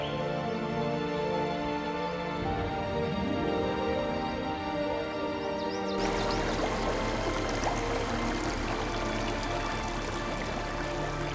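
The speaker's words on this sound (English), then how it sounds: "The coursing streams continue to fashion this underground spectacle." Water from a stream courses through an underground cave in southern China, a steady rushing and pouring flow that grows fuller and louder partway through, continuous with no talk.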